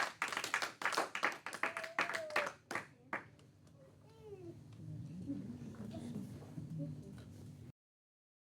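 A church congregation clapping loudly in quick rhythmic bursts while voices call out in acclaim, then the clapping fades into scattered murmuring, chatter and faint cries before cutting to silence.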